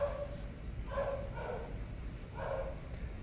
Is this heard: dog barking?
yes